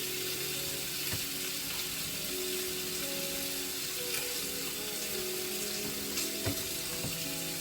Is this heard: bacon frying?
yes